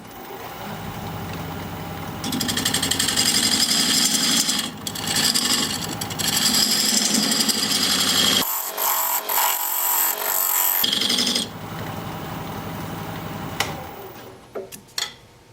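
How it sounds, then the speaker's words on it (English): Wood, driftwood, spins on a lathe as a diamond point tool scrapes and rasps against it, squaring a tenon, with a brief quieter pause in the middle before cutting resumes. "change to this diamond point tool to square up the sides of my tenon"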